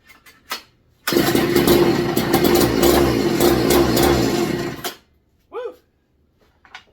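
A rebuilt McCulloch MC49 chainsaw engine fires and runs for about four seconds, a loud, close, steady buzzing roar that then cuts out, followed by a few brief quieter sounds.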